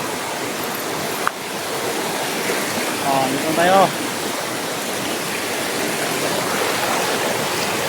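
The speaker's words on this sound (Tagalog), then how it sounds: "Narinig doon ang agos ng tubig." Steady flowing stream water after overnight rain, a constant broadband rush filling the scene, with a brief sharp knock early on and a short burst of voices partway through.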